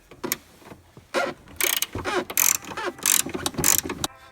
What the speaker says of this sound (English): I've got enough room to lift up this whole speaker box a little bit so that I can get a ratcheting wrench on that bolt